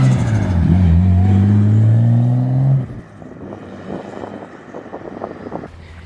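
A Ford Falcon idles loud and close with a steady low engine rumble for about three seconds, then pulls away up the street, its drone dropping to a fainter, uneven sound with wind noise.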